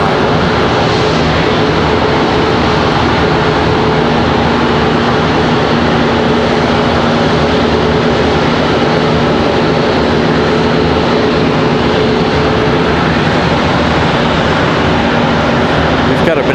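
A Southwest Airlines jet arrives at Charlotte Douglas International Airport with a loud, constant engine roar that fills the whole stretch without letting up.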